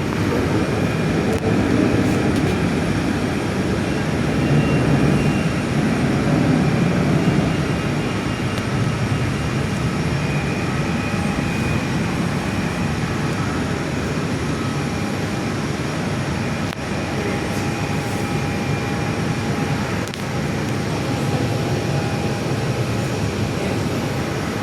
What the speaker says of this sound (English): A Jetstar A321LR coming in to land on 24.